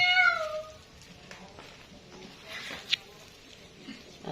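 A cat gives a short, clear meow at the start, then quieter background sounds and faint voices follow.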